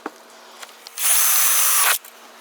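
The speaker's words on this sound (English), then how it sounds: "that's scary, drilling a hole in your roof" A power drill bores a hole through the aluminum roof of an Airstream trailer, a loud steady whine lasting about a second after a few faint taps, then cutting off abruptly.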